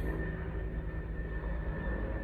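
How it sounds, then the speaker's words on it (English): A low, steady engine drone from a helicopter flying nearly overhead hums, fairly faint and continuous with a rumbling low end. "a helicopter damn near flies right over my head"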